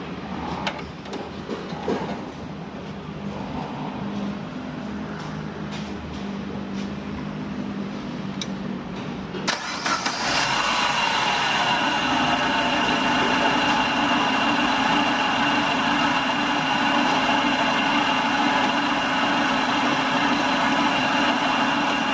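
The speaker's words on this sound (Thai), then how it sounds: "เดี๋ยวผมจะลองไปสตาร์ทเครื่องรถดูนะครับ" A Chevrolet Aveo car engine cranks and catches, then settles into a steady, loud idle that drones on evenly after a faint, ticking lead-in, with no voices.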